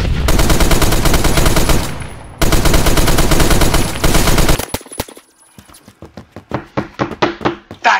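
Rapid automatic gunfire from a weapon in the Roblox game Phantom Forces, two long loud sustained bursts followed by a string of separate sharper single shots that gradually thin out.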